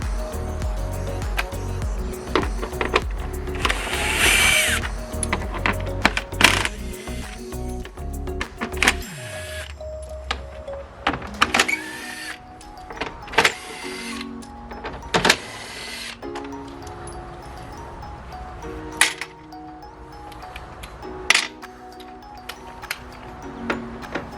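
Power driver whirring in short repeated bursts as it backs out T25 and T30 Torx bumper bolts on a BMW F30 335i, with clicks and clatter of loose parts between runs.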